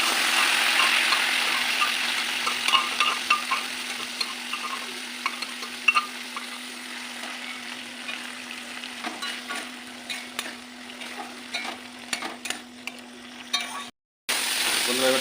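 Boiled dal for egg tadka is stirred into fried masala in a pan, a soft sizzle with scattered scraping and stirring clicks over a steady low hum, fading a little as it goes before a brief dropout near the end.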